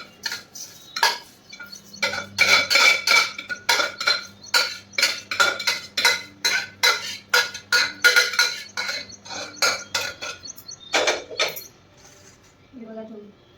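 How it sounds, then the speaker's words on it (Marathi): Metal cutlery clinks and scrapes against a plate in a busy run of quick taps as breakfast is served out, with a short pause near the end and a few faint vocal sounds. "सो आता मी काढून घेते प्लेटमध्ये"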